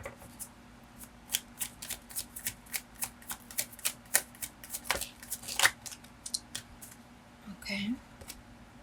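Tarot cards being shuffled in a tarot reading, a steady run of crisp flicking riffles close by, ending with a brief voice.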